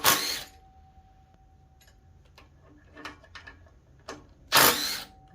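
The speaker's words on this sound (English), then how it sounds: "I'm going to go ahead and loosen my rotor bolts." Bolts being loosened on a front brake rotor of a 2015 Harley-Davidson Road Glide: a few sharp ratcheting clicks and metallic ticks spread across a quiet stretch, with two louder broadband bursts at the start and near the end.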